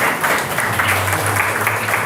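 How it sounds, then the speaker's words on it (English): A church congregation applauds during a worship session. The clapping is a dense, continuous wash, with a low sustained tone running underneath part of the way through and no speech on top. "Can we give the Lord a big hand for that?"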